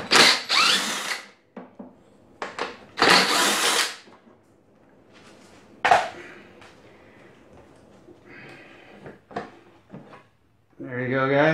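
Power tool removing 10 millimeter bolts from the fuel tank of a Craftsman 922 snowblower, loud close bursts of whirring with pauses and softer mechanical clicks between them.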